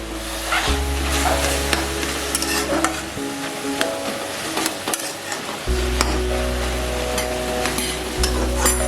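Taro leaf greens fry and sizzle in a pan under constant stirring and scraping, with a low steady hum from a stove or fan in the background.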